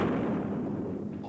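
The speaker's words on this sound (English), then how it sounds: "capable of hearing the roar of a cannon" A cannon fires with a brief, heavy boom that rolls off into a dense, rumbling roar, loud and alone.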